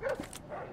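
A guard dog in the stealth video game Splinter Cell: Blacklist gives a single short bark with a slight whimpering edge. It sounds quiet and somewhat distant, with no talk.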